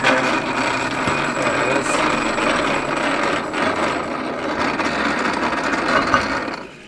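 A meat grinder runs with a steady, continuous mechanical whir and grind while double grinding deer meat, loud and close throughout with no pauses.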